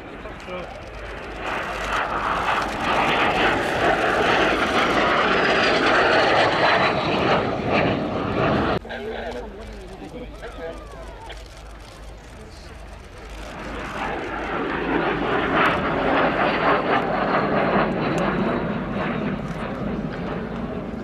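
A Polish license-built MiG-15 jet passes at an airshow, a loud sustained engine roar that swells, dips briefly and builds again as the aircraft flies by, with commentary talk over it.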